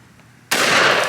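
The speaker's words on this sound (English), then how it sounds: "Come over here and shoot those 2 liters and stuff." One loud, close blast from an H&R .410 shotgun fired at 2-liter bottles breaks a quiet moment outdoors, its burst sustaining briefly as the shot and debris ring out.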